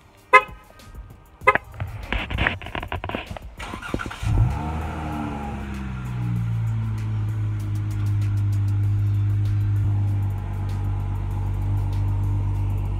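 A Dodge Charger engine is started warm: a few clicks and a short cranking burst end in a catch and a flare of revs near the microphone, then it settles into a steady, deep idle rumble.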